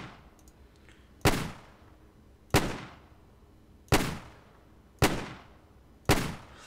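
Lee-Enfield rifle fire in a World War II video game mod: five sharp, loud single shots spaced about a second apart, each ringing out in a short decaying tail, with no voices.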